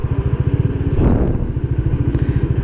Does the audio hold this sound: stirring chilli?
no